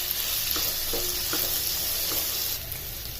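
Onion frying in ghee on a medium flame, a dense close sizzle with a few quick stirring scrapes of the spoon, and no one speaking.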